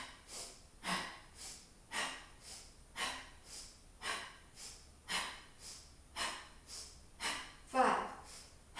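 Alternate-nostril breathing during a yoga session for shoulder mobility: a steady series of about ten audible breaths, rhythmic inhales and exhales close to the microphone, soft and airy.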